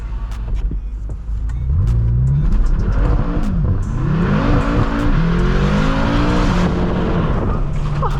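A BMW M6 engine revs up and down repeatedly, loud and close, with rising and falling pitch sweeps and a few sharp crackles from the exhaust.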